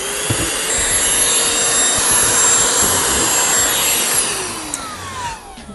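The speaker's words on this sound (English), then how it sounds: "All right, it's vacuum time." A vacuum cleaner runs steadily and loud, cleaning up around a large Mingda Magician Max 3D printer, a broad continuous whoosh with a high whine that holds for the whole stretch and starts to trail off near the end.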